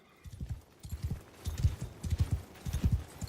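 Horses clip-clop in a Game of Thrones strategy video game set on a snowy map, with rhythmic hoofbeats in steady bursts that grow louder and busier as the clip goes on.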